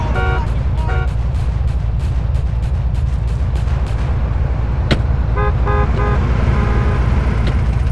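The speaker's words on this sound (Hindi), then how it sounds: "तो हाँ मैं गाड़ी को लॉक कर देता हूँ" Car locked in GTA San Andreas: a rapid series of sharp electronic lock chirps near the start, then another burst of chirps a few seconds later, all over a constant low engine and traffic rumble.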